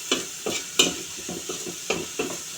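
Garlic paste cooking in hot oil with ginger paste and turmeric, stirred in a pan: a soft sizzle beneath repeated scraping strokes of a spatula, about six distinct stirs in quick succession.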